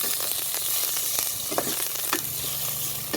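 Mussels with ginger sauté in a hot pan, a continuous close sizzle and crackle broken by a few sharp stirring scrapes and clinks.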